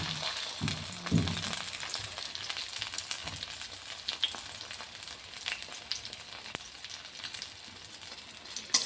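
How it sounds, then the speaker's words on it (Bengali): Two eggs fry together in a pan, giving a continuous close sizzle with small crackles and pops, a few louder spits near the start, and no talking. "এখানে ডিম ভেজে নিচ্ছি, দুটো ডিম একসঙ্গে করে নিচ্ছি"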